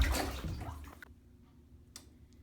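Water is poured onto a punctured tire on a Ford Edge to find a leak, a brief close splash and trickle that fades quickly, followed by faint ticks in near quiet.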